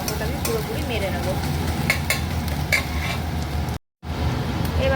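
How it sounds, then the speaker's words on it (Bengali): Ginger, green chilli and garlic sizzle in a hot pan while a utensil stirs and scrapes in short strokes, with a steady frying hiss that drops out briefly near the end. "এবার এটাকে আমি একটু ভাজা ভাজা করবো, মানে আদা কাঁচা লঙ্কা আর রসুনের আর একটু যে গন্ধটা আছে সেই গন্ধটা আমি পুরোপুরি মেরে নেবো"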